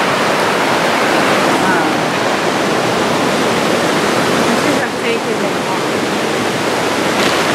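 Loud, continuous rushing of a knee-deep river at a crossing, a dense broadband roar of flowing water that stays steady throughout and sounds close.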